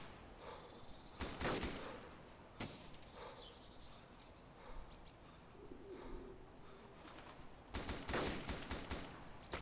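Distant gunfire in the game Arma 2 DayZ: scattered far-off shots and short volleys cracking over an outdoor ambience, with a loud cluster near the start and another burst near the end.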